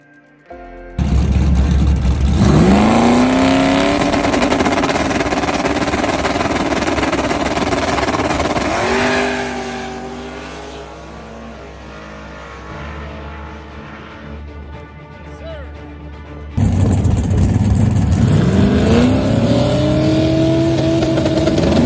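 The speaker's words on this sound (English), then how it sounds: "backside racing action on the road course at Grand Bend Motorplex" No-prep drag race cars on the road course at Grand Bend Motorplex, engines roaring loud and close with hard revving, a long sustained pull that eases off mid-clip before another car blasts back in at full throttle.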